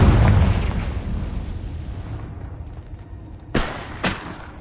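A Confringo fire spell blast in Hogwarts Legacy, opening with a loud booming burst that rumbles and fades over two seconds, followed by two short sharp impact pops.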